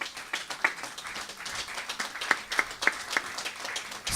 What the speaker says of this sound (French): il mérite un tonnerre d'applaudissements